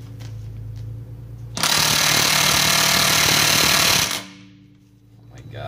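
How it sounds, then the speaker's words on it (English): An impact gun set to maximum power breaks loose wheel lug nuts on a Volkswagen GTI being fitted with Mercedes AMG wheels: one loud, steady hammering burst of about two and a half seconds, close by, with voices before and after. "I've literally never encountered anything that this impact gun could not take off."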